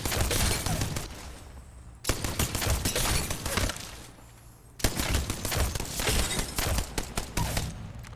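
Rampage LMG fire in the video game Apex Legends comes in three long, dense automatic bursts, loud and rapid, with brief pauses between them and no voice over the shooting.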